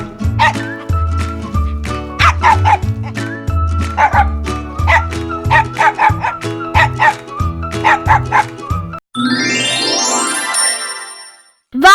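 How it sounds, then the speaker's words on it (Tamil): A dog gives a long run of quick, yappy barks and yips in bursts over a steady musical backing, then the barking stops and a ringing chime sweep closes it out. "dog barks."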